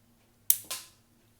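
Mini Lego EMBR model gun firing Lego ammo, two sharp snapping shots in quick succession with brief decaying rattles, close, in an otherwise quiet room.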